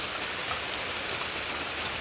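Heavy rain pours down in a dense, steady hiss of drops on surfaces, constant and enveloping, with no voices.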